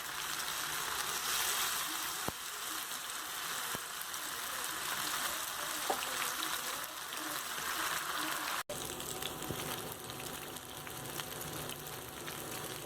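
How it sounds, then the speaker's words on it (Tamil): Masala-coated vela meen fish pieces fry in a pan, a steady broadband sizzle and crackle of hot oil running continuously, with a few faint clicks and one brief break partway through. "எல்லா ஃபிஷ்ஷையும் ஒன்று ஒன்றா வந்து ஃப்ரை பண்ணிக்கலாம்"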